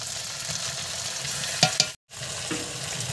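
Dried red chili paste frying in oil for a chicken curry, a close continuous sizzle with a couple of sharp utensil clinks and a brief cut in the middle.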